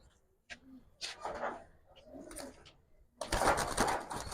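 Kalo Chita military pigeons coo in short, close bursts between pauses, and a louder, busier stretch of bird noise comes near the end. Faint human voices sound in the background.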